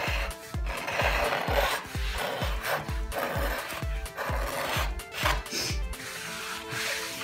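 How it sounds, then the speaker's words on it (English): Rhythmic back-and-forth rubbing as wax is worked by hand into a surface, a steady series of close, scratchy strokes with brief pauses, no talking. "And then I'm gonna go ahead and wax it up"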